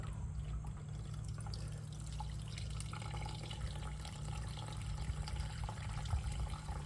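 Water is poured into a bucket of sand holding chestnuts, a faint steady trickle and wash running for several seconds with no talk.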